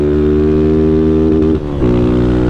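A 2025 Honda Fan 160 motorcycle engine runs close and loud with a steady, buzzing harmonic drone; it briefly drops and wavers near the middle, then settles back to an even rev with no talking.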